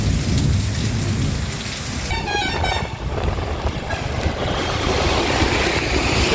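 Heavy rain pounds down steadily and loudly outdoors, with a deep rumble of thunder rolling underneath and a brief tonal toot partway through.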